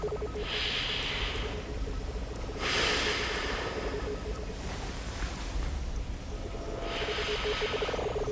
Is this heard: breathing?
yes